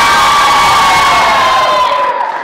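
A crowd of children at a church lesson cheers and shouts loudly and continuously, a dense wall of voices and whoops that stays strong throughout.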